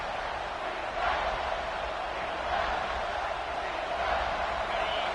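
Simulated stadium crowd roar from a football video game during a red zone defensive stand, a steady broad wash of cheering and noise that swells slightly around a second in and holds loud throughout.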